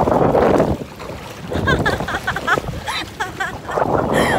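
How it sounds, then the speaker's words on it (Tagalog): Gusty wind buffets the microphone with a boat's rushing water and waves underneath, loud and rough, while voices chatter faintly in the middle, island hopping in Bohol, Philippines. "Kahit malakas yung hangin and alon, go pa rin."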